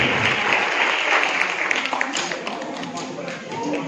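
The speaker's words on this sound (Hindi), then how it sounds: "वो तालियों में दम नहीं" Applause from people at a Christmas gathering, a fairly thin and uneven patter of hands that thins out and fades toward the end, with a voice speaking over it.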